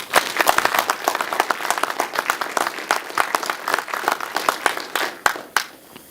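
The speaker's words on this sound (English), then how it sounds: "Please join me in a round of applause for them doing such a wonderful job putting on an awesome ceremony today." Applause from an audience at a retirement ceremony, a dense run of hand claps lasting about six seconds before tapering off at the end, close and fairly loud with no talking.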